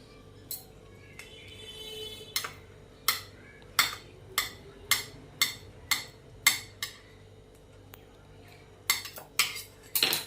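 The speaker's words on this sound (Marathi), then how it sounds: "इकडे मी अर्ध केळ घेतलेला आहे त्याच्या आपण फोडी करून घेऊया" Half a banana is cut into pieces with a knife on a plate in a home kitchen, making a series of sharp, separate clinks and taps, spaced irregularly and close up, with quiet gaps between.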